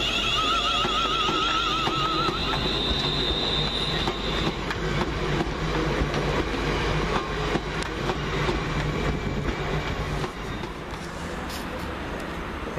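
A London Midland train pulls out of Wolverhampton station, wheels squealing at first over a steady loud rumble and clatter of rolling railcars that carries on alone throughout.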